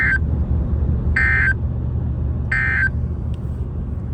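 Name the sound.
weather radio warning alarm tone during EAS weekly test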